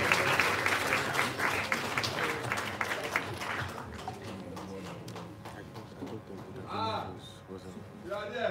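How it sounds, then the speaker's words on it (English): A crowd applauds steadily at a university TV launch event to welcome creative arts students, the clapping loud at first and thinning out after a few seconds while voices carry through. "Please, can we usher them in with an applause, please?"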